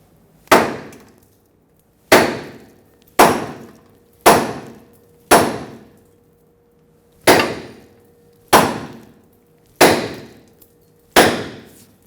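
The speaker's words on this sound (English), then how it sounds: "let's tap the pitman arm right here and separate the stud" Nine sharp metallic hammer strikes ring out on the pitman arm of a 2000-2005 Ford Excursion to knock the tie rod stud loose, each blow close and loud with a short ringing decay, spaced about a second apart with a pause midway.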